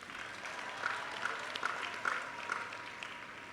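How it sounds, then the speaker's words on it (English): Far-off crowd applause at a university commencement address, heard as a faint, steady wash of clapping with a few slightly louder swells. It stays at a distance and fills the whole stretch. "Let's give them another round of applause."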